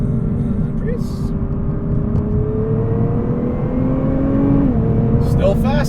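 A 2017 Nissan R35 GT-R Premium drones steadily from inside the cabin while driving, its engine note rising gently in pitch, with people talking over it.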